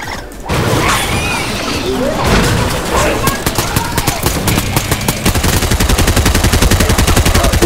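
Rapid gunfire in Fortnite, loud and close, with bursts building into a dense run of regular shots toward the end; voices talk over parts of it.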